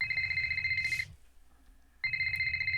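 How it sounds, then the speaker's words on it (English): A telephone rings in the Nancy Drew game Shadow at Water's Edge: two bursts of electronic ringing, loud and close, separated by a second of near silence, with no talk over it. "Oh, phone's ringing."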